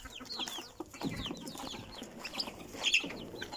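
Hens cluck and chatter nearby with a rooster among them, a busy overlapping flock sound with occasional sharper calls, no talking.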